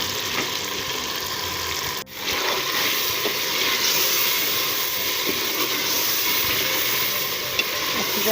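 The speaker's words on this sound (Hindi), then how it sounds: "अच्छी तरह मसाला भून जाएगा, टमाटर प्याज नज़र आना बंद हो जाए" Masala of tomato and onion frying in a pan for dhaba-style daal mash with chicken, a steady close sizzling hiss that runs throughout with a brief dip partway through, no voices.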